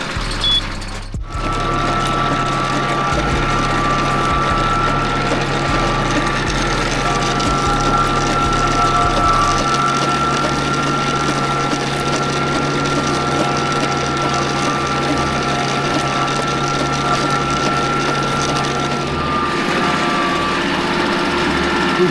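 Japanese mini tractor with a freshly overhauled engine tilling soil, a steady loud mechanical engine drone with a rattling, whirring rotary tiller throughout, briefly broken by a knock near the start.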